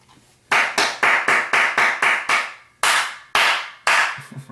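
Sharp, loud hand claps ring out one at a time in a slow, steady series, each followed by a short decay in a quiet room.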